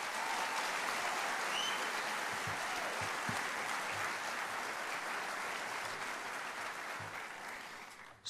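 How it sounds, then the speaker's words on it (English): Sustained applause from an outdoor crowd at a 75th D-Day commemoration ceremony honoring an Air Force honor guard, steady and full for about eight seconds before tapering off at the end. "Let's give them a round of applause."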